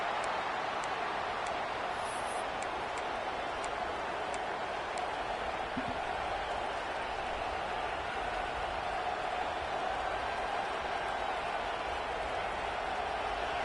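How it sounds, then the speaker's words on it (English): A football game crowd fills the scene with a steady, distant wash of cheering and murmur that stays broad and even throughout, with no single voice standing out. "the crowd really getting into it"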